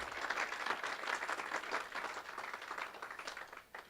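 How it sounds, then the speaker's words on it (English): An audience at a college homecoming alumni awards program gives a continuous round of applause, even and moderately distant, holding steady for several seconds before starting to thin out. "Let's give them a round of applause."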